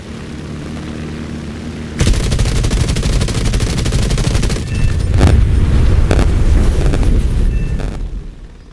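Aircraft machine guns chatter in sustained, dense bursts during a video game dogfight against a TBD-1 torpedo bomber, loud and continuous over a droning engine, with heavier thumps punctuating the firing near the end.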